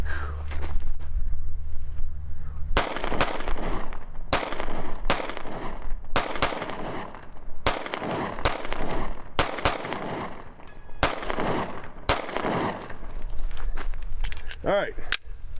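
Pistol gunfire at an outdoor target range, about a dozen sharp, loud shots spaced irregularly in quick succession, with a steady low rumble of wind or background noise underneath.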